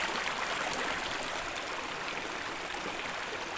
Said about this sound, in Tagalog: maririnig lang ninyo ay lagas-gas ang tubig